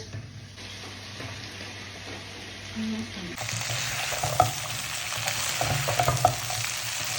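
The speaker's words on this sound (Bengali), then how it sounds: "আলুটা কষানো শেষ" Potato pieces, cut fairly thick, sauté in a pan with potol, giving a steady sizzle and fry that swells louder midway, with occasional stirring scrapes and no talk.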